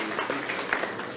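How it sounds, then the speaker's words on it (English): Brief applause for a discussion panel at a London event on Guyana's development, soft, dense clapping from a seated audience. "just a nice round of applause for the panel here"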